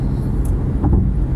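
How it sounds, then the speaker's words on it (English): Engine rumble of an approaching Porsche Boxster S sports car on an early morning drive in Australia, a steady low drone with no voices. "here comes one of the guys now in his Boxster"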